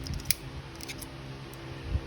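Push-button folding knife snapping open and shut: a couple of sharp, close metallic clicks, one crisp and bright, another lower, over a quiet room hum with no talking.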